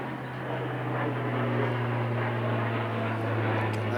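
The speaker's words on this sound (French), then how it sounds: "Canadair blanc et rouge." A red and white Canadair firefighting aircraft drones overhead near Marseille-Provence, its propeller engine a loud, steady tonal hum that swells slightly as it passes, with no talk.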